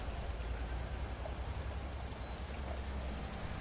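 Steady rain falls continuously, a dense hiss of drops with a low rumble beneath, fairly close and unbroken throughout.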